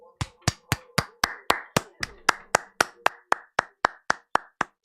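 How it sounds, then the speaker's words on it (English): Someone claps their hands in a steady, even rhythm of about four sharp claps per second, close and crisp, with faint tonal sound lingering in the background. "I'm clapping and I'm making it sound like a good clap as well."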